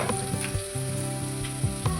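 Garlic sizzles in hot oil in a pan alongside a cinnamon piece and bay leaves, a steady close crackle with brief stirring bumps and a tonal hum running underneath.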